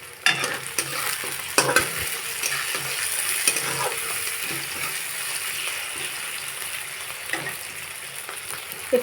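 Salted stingray (shankar fish) pieces fry in a pan under a steady hiss, while a spatula scrapes and knocks against the pan in occasional clattering bursts.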